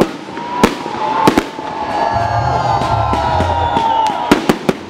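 Fireworks display in 2015 with sharp bursts of exploding shells at irregular intervals, loud crackling over a steady rumble, and a crowd murmuring in the background.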